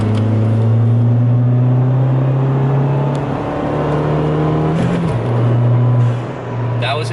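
A Ford Fiesta ST with full bolt-ons in eco mode pulls hard in third gear, its engine droning steadily and rising in pitch before a quick gear change, heard loud from inside the car with no talk.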